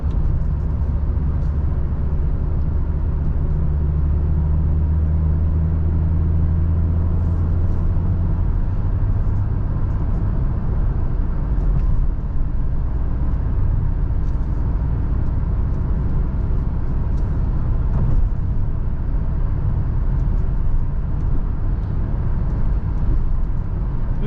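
A Volvo V70 2.5T petrol with Geartronic gearbox cruising at 50 mph in top gear at low revs, heard from inside as a steady, loud engine drone with road rumble, unbroken throughout.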